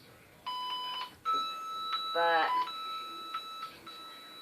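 Electronic beeps from a trigger object detector sound in short repeated bursts, fairly loud and close, with a brief voice speaking over them partway through.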